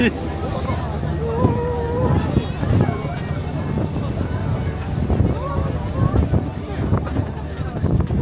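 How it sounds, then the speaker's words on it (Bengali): A passenger launch boat cruises a lake in Hakone, Japan. Steady wind buffets the microphone over a low engine and water rumble, while indistinct voices murmur in the background throughout. "এখন লেক আসি লঞ্চে উঠছি এই লঞ্চ আমাদেরকে নিয়ে যাবে"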